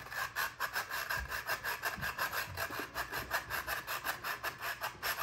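Rough edges of sugar cookie house pieces are shaved smooth with a tool in quick, regular back-and-forth rasping strokes, close and fairly quiet, with no talk.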